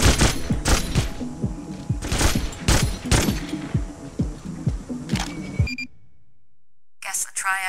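Heavy artillery gunfire in the PS2 game NARC, a loud battery of sharp repeated blasts and clattering impacts that runs for about six seconds, then cuts to near silence before a brief burst returns.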